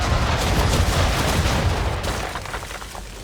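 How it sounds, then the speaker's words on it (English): A ship's broadside of cannons firing round shot in Assassin's Creed III, a dense roll of heavy booming blasts that slowly fades into a rumbling tail. "Bring around broadside, and when all guns are on target, call fire. Round shot for a start!"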